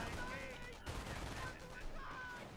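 Machine gun fire and scattered gunshots crackle in a World War II real-time strategy game battle, dense and continuous but fairly quiet, mixed with distant battle noise and faint voices.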